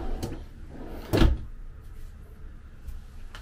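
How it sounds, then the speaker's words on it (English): A storage drawer beneath the couch of a 2022 Grand Design Imagine XLS 21BHE travel trailer slides with a brief soft thump, one clear knock amid quiet room sound. "And you even have drawers underneath the couch."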